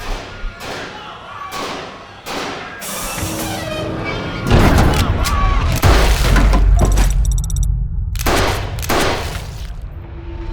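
Gunshot sound effects in an amateur short film, a series of sharp close thuds and blasts with a shattering crash in the middle, loud and punchy, mixed with some background sound.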